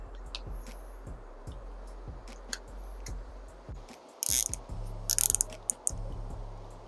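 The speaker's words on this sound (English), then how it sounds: "And I'll be able to pump air right in through this machine" A hand pump forces air through a tube into an Ancel S1 smoke tester during a vacuum-leak check on a high-mileage BMW E92 M3, giving a steady run of rhythmic mechanical clicks over a low hum, with a few sharper bursts near the end.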